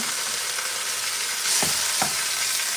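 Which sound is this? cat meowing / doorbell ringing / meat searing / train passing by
meat searing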